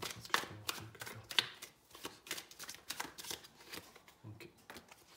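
Tarot cards being shuffled close up in a series of soft riffling, slapping bursts with an irregular rhythm, under someone speaking French.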